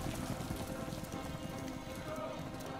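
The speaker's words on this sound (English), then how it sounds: "Look how the rain is hitting the ground." Rain pours onto the ground in the Modern Warfare 3 video game, a dense steady patter that fills the whole stretch at even loudness, with no voices.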